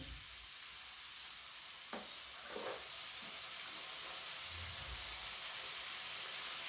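Chopped large tomato dropped into spices frying in a pan, giving a steady sizzling hiss throughout with a few soft stirring knocks, no talking.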